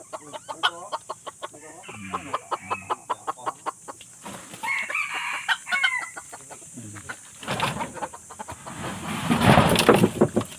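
A freshly caught red junglefowl (labuyo) gives loud clucks and sharp fowl calls close by, with stretches of rustling and handling noise between the bursts of calling.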